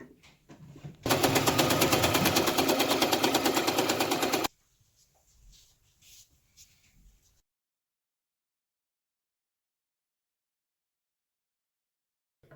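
A sewing machine stitching a cloth mask runs in one steady, rapid burst of even mechanical clatter for about three and a half seconds, close and loud, followed by faint handling noises and then silence.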